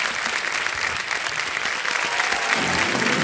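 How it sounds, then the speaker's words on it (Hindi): Studio audience applause on an Indian television quiz show set, a steady, dense wash of clapping from a large crowd that holds evenly throughout without voices over it. "तालियां बज जाए इनके लिए एक बार फिर।"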